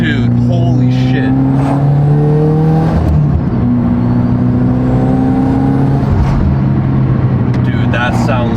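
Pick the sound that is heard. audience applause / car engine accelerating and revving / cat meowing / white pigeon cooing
car engine accelerating and revving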